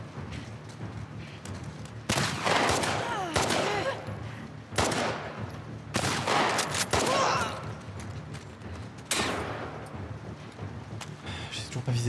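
Gunfire from The Last of Us Part II: loud bursts of rapid shots in several clusters with short gaps between them, over a steady low game background.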